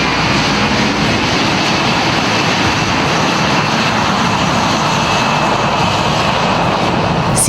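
Boeing C-17 Globemaster III military transport jet engines roar steadily and loud, a dense continuous rumble and hiss that holds without a break.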